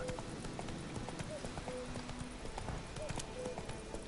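Horse hooves clip-clop at a steady gallop in The Witcher 3 video game, a continuous rhythmic beat carried alongside a voice talking over it.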